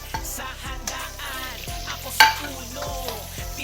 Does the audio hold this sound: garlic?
yes